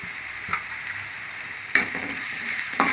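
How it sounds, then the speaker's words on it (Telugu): Onions frying in a pan with turmeric, chili powder and salt for an egg curry, a steady close sizzle broken by a few sharp stirring scrapes. "దీన్ని బాగా ఫ్రై చేసుకోవాలి"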